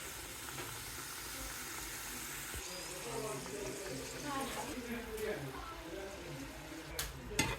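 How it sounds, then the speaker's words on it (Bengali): Vegetable singaras frying in hot oil in a home kitchen give off a steady, fairly soft sizzle across the whole stretch, with a few brighter crackles near the end. "এখন সিঙ্গারাগুলো তেলে ভাজবো।"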